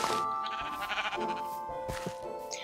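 A goat in Minecraft bleats in a drawn-out, wavering cry, followed by a couple of shorter bleats, close and clear against faint game background sounds.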